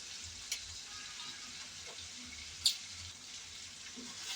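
Spices for chicken haleem fry quietly in a pan with a low, steady hiss. A few isolated clinks from stirring sound through it, and one is more distinct than the others.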